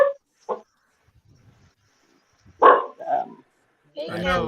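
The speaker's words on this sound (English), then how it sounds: "And whose dog is that?" A pet dog barks a few short, loud times at close range in a home, mixed with people chatting casually nearby.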